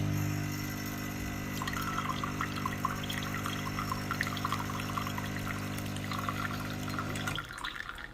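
Water flushes through the group head of a Lelit Mara X espresso machine in a steady, continuous rush alongside the machine's low pump hum, which cuts off near the end.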